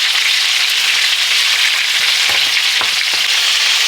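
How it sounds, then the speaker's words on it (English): Lamb chops fry in hot oil in a light pan, giving a loud, steady close-up sizzle and crackle throughout, with a few sharper pops near the end and no talking. "All right, so these are frying up good."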